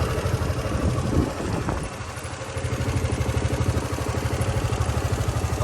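A 2018 Honda Forza 300cc scooter engine runs steadily and smoothly at close range, a low even rhythmic thrum with a brief clatter partway through.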